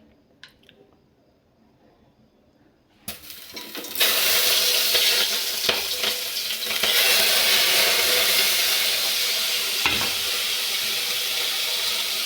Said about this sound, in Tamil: இப்போ பாருங்கள் எல்லாம் தாளித்து கொட்ட போகிறோம்